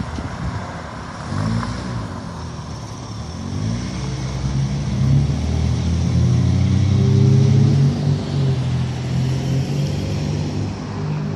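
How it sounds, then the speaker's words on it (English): A vehicle near a police station's parking area takes off quickly, its engine rumble swelling from a low idle into a strong, sustained acceleration that peaks midway and holds loud before easing slightly, with no talking over it. "That car took off pretty quick"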